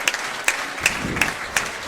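Football crowd applauding at a Blyth Spartans match against Grantham Town, a steady wash of clapping from the stands with sharper bursts recurring roughly every third of a second, broad and fairly loud throughout.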